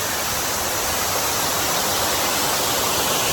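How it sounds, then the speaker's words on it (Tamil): Bheemeshwara waterfall flowing as a steady, dense roar of rushing water, loud and constant throughout with no gaps. "பீமேஸ்வரா வாட்டர் ஃபால்ஸ் பார்க்கணும்"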